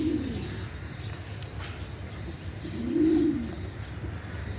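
Low, soft cooing from a male tiger-print pigeon, with two throaty swelling coos, one near the start and a fuller one later, over quiet background noise.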